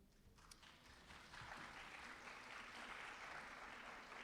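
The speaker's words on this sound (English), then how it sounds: "You just got a round of applause." Audience at a church presentation by a state transportation department breaking into applause, a few scattered claps swelling into steady full clapping, moderately distant in a hall.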